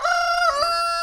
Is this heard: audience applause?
no